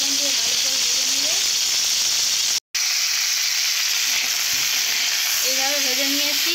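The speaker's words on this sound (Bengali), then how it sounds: "লবণ দিয়ে ভালো করে ভেজে নেবে।" Food sizzles steadily in a hot pan with salt added, a constant loud hiss broken by a brief dropout, while a voice talks over the frying at the start and end.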